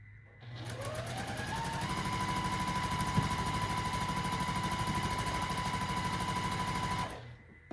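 Sewing machine stitching a quilt block, a rapid even whirring rattle that spins up, runs steadily for several seconds and then stops abruptly.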